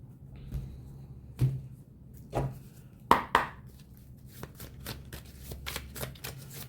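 Tarot cards are handled and shuffled at close range, giving a series of separate soft slaps and riffles with short quiet gaps between them.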